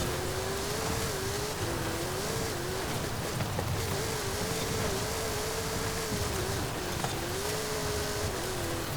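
A 2019 Deberti Toyota Tacoma TRD performance truck drives at speed on a road, its engine a steady loud drone with a rising and falling tone under continuous wind and tyre roar.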